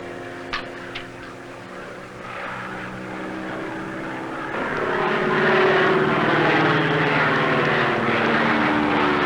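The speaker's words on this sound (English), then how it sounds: "That's the plane, all right." A small propeller airplane flies low overhead, its engine drone swelling from faint to a loud, steady roar that fills the second half, with no voices.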